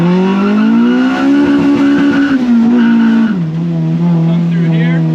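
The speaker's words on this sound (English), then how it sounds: "I like to do a nice burnout just for fun." Honda CRX engine revving hard and holding high revs with a steady strained tone, then the pitch drops and settles, close and loud with a voice briefly over it.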